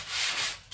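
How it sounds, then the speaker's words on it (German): A brief, soft rasp of sandpaper rubbing across a smooth MDF tabletop, one quiet sweeping stroke heard close up. "Ich schleife jetzt die Tischplatte eben ab"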